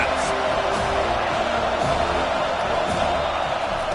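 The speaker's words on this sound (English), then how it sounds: "this crowd will pull out a vocal cord to help this defense" A loud football stadium crowd roars on third down to back its defense, a thick, unbroken wall of yelling and cheering that holds at full volume the whole time.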